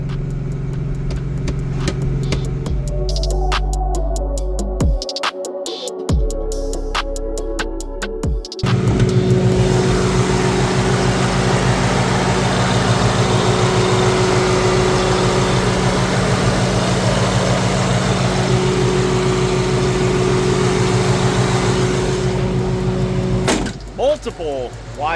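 A Terminator Cobra's engine idles with a loping rumble, then roars through loud sustained high-rev pulls to 6,000 RPM, close by, ending with the revs dropping back.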